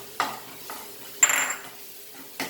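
Masala egg burji frying in a pan while being stirred, a quiet sizzle under four distinct scraping strokes of a utensil against the pan, one longer scrape in the middle, close with no talk.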